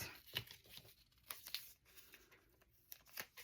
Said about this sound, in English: So we are going to rip part of this.